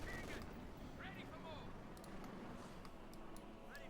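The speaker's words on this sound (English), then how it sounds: "I do believe that's a Bren gun" Bren light machine gun bursts in Company of Heroes 2, rattling among dense battlefield gunfire and explosions across the whole stretch, with a commentator talking over it.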